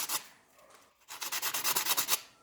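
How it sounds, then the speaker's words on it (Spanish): Burr being ground off a jewelry ring with a small abrasive wheel: a short scrape, a pause, then a run of quick rhythmic rasping strokes, close and fairly quiet. "Sacamos la rebaba con un poco de esmeril."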